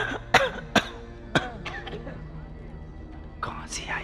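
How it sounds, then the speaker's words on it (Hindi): Several sharp coughs ring out in quick succession near the start, followed by softer throat sounds and murmuring, then another rough cough burst near the end. "खांसी आई खांसी"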